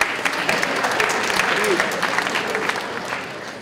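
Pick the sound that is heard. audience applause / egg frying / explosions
audience applause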